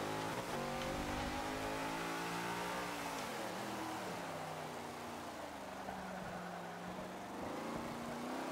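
A Chaparral race car's engine revs and accelerates in Forza Motorsport 5, a loud steady roar whose pitch climbs, dips and climbs again, heard alone without talk.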